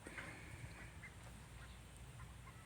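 Ducks quack now and then against a steady low outdoor hum in rural Isan, Thailand, the calls soft and somewhat distant.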